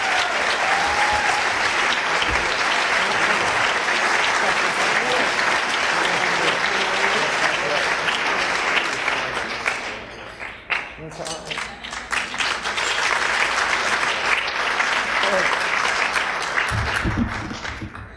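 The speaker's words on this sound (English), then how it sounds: "thank you for the applause" Sustained, loud applause fills the hall at the National Book Awards ceremony, dipping briefly midway before swelling again, with a few voices and cheers mixed into the dense clapping of a large audience.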